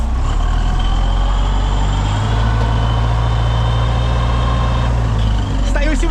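A tractor engine drones steadily and loudly while sowing soybeans on a steep, hilly field, its low rumble constant throughout with a brief metallic clatter near the end.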